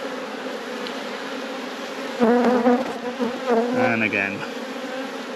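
Dense, steady buzzing of many honey bees close by during beekeeping work in a nuc yard, with a short spoken phrase and some handling noise partway through.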